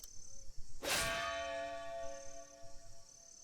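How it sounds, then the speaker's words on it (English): A bell tolls in the video game Octopath Traveler 2: one loud, bright clang strikes and then rings out in a long, shimmering decay over faint background sound. "The bell heralds your defeat."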